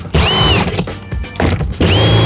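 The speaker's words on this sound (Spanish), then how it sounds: "Una clavadora automática en tu taladro por menos de 10 euros. Realmente es una atornilladora automática." A power drill fitted with an automatic screwdriver attachment with adjustable depth drives a screw into wood, two loud whirring bursts with a short pause between them, close by and with no talk over them.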